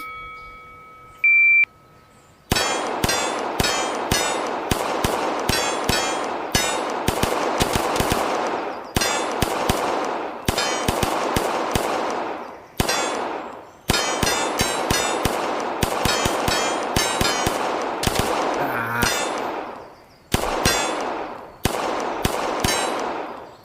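Gunfire at a shooting match with steel targets, loud, sharp shots fired in fast strings and brief bursts after a start beep, pausing several times across the stage and ringing close by.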